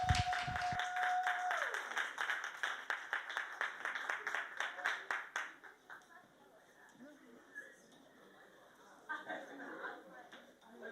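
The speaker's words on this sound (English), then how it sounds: "Let's give a round of applause for Lost Child." Audience applause at an open mic night, rhythmic clapping rising after a brief tone, then thinning into scattered claps and chatter as a voice begins speaking.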